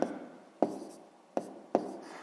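Pen writing on paper during a sixth-grade math lesson, four short scratchy strokes, each starting sharply and fading, close and quiet with no talking.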